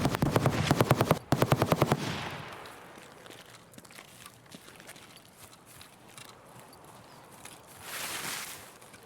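Gunfire from Escape from Tarkov near the old gas station area: a rapid automatic burst, a short pause, then a second burst, loud and close, fading into quiet ambient game noise with a faint swell near the end.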